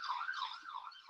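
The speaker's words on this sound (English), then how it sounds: "I don't know if you guys can hear the police sirens in the background" Police siren in the background: a faint, distant wailing tone that rises and falls smoothly through the whole brief moment, with no talk over it.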